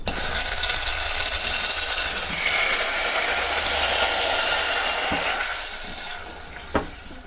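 Butter sizzles loudly and steadily in a hot pan for several seconds, then eases off toward the end, where a single light clink sounds.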